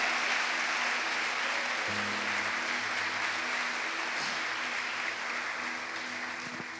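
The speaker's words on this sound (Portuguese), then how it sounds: "E você vai dar uma salva de palmas" Sustained applause from a church congregation during a sermon, dense and continuous clapping with a faint hum underneath, tapering slightly toward the end.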